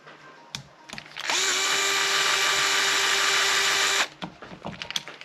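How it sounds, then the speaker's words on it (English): A power driver runs screws back into a FiveStar Hobbies Knockout model sprint car: one close, loud, continuous whine of about three seconds, with light handling clicks before and after. "And put those screws back in."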